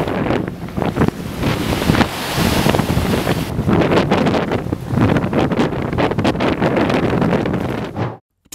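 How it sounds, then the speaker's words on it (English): Strong wind roars and buffets the microphone while waves crash and surge during the January 2014 coastal flooding at West Kirby, loud and continuous until it cuts off abruptly. "West Kirby, 2014 January, saw strong waves and much of water caused flood for residents."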